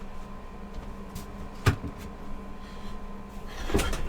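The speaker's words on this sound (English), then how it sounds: "Let me close my door" An indoor door shuts with a single solid thud partway through, close by, over a steady room hum, with a fainter knock or bump near the end and no speech.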